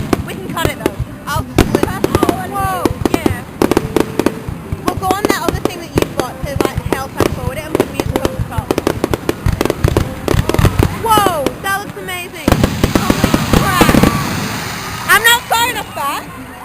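Summer fireworks exploding in a rapid barrage of sharp cracks and bangs, loud and dense, with crackling bursts and people talking and exclaiming over them throughout.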